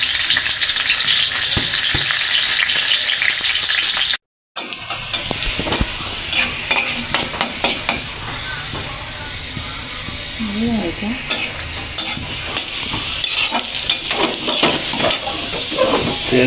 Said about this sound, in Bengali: ডাল বাগারের জন্য পেঁয়াজ, শুকনো মরিচ, রসুন ভালো মতো ভেজে নেবে।